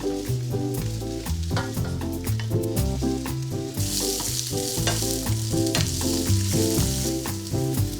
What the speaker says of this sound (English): Garlic and onion stir fried.